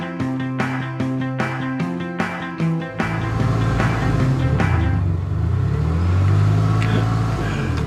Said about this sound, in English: So that is the best exhaust note you're gonna get because, well, the computer does all the thinking for you.